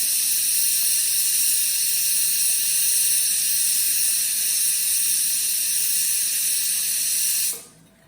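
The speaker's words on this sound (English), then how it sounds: "The cooker is going off" A pressure cooker of dal vents steam in a steady, loud, high-pitched hiss that holds for several seconds before cutting off abruptly.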